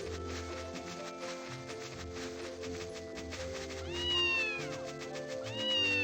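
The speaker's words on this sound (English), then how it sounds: "Run into the kitty, you pet the kitty," A video-game cat meows when petted, giving two clear, rising meows near the end over a layer of soft game music and ambient tones.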